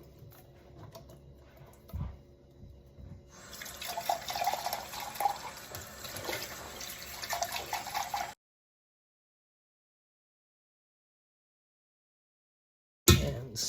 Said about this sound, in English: We're also going to rinse and drain our black beans.